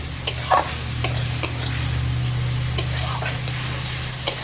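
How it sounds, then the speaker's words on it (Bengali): Spice paste being fried with gram flour in a pan sizzles steadily while a spatula scrapes and taps against the metal at irregular intervals, close and moderately loud. "বেসন দেওয়ার পরে আমি একটু ভালো করে মশলাটাকে কষিয়ে নিচ্ছি"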